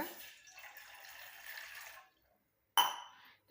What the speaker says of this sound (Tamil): ஒரு டம்ளர் அளவுக்கு தண்ணி அளந்து சேர்த்துக்கோங்க